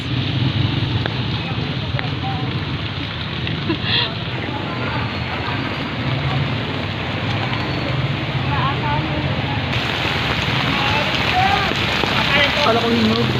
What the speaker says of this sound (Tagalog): Naulan guys.